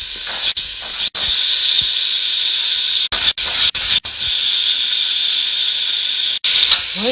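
Chickpeas are tipped into a hot cooking pot alongside meat and oil, setting off a loud, continuous sizzling hiss close up, broken by a few brief pauses and clanks as they are stirred.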